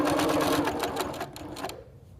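A sewing machine stitching a wood-carving quilt, running in a rapid, even mechanical chatter close by, then slowing and stopping after about two seconds.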